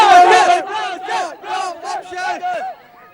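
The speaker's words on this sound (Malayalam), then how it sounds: "വലിയ ആരവങ്ങളുടെ നടുവിൽ വലിയ വലിയ ജനക്കൂട്ടമാണ് ഇങ്ങനെ സ്റ്റേഡിയത്തിന് ചുറ്റും" A huge football crowd at the Kochi stadium roars and chants loudly and close for a Kerala Blasters match, rising and falling in rhythmic, cheering waves.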